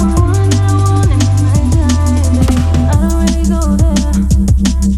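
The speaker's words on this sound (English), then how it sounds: "So this drum fill is at the end of the verse," A drum fill from a Splice sample, processed with EQ and drum bus, plays at the end of a verse: loud, punchy hits rolling over a sustained low musical backdrop.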